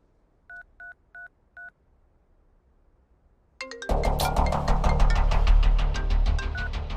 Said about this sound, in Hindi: अनिल को फोन लगा।